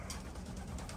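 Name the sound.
pigeons cooing at the loft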